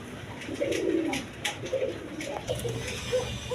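A pair of pigeons coos in low, throaty rolling bursts, fairly close, with brief gaps between calls and some faint background noise.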